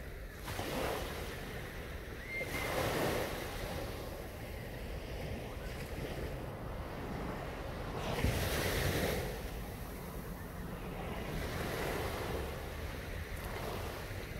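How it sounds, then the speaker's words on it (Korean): Gentle surf washing onto Songjeong beach in Korea on a calm day, a steady soft wash of small waves with periodic swells and some wind noise, no talking. "파도 소리만 들어도"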